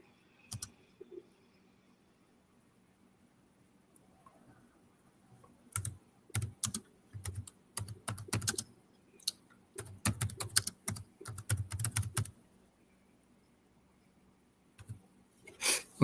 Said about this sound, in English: I'm typing something real fast.